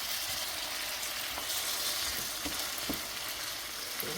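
Catfish, also called saltfish, frying in a pot with a steady, loud sizzle and crackle, a few sharper pops breaking through the constant hiss; no talking.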